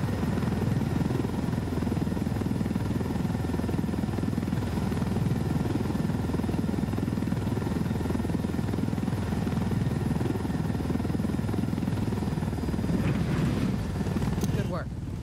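Steady helicopter rotor and engine drone in a military video game, loud and continuous throughout, with the chopper set down to deliver supplies and a faint voice underneath.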